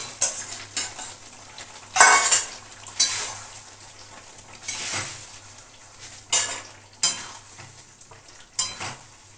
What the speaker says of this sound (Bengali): এবার দিয়ে দিচ্ছি আলুগুলো।